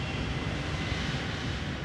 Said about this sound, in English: This Boeing 777 with 354 passengers on board is scheduled for departure to Florida